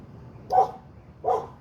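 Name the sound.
dogs barking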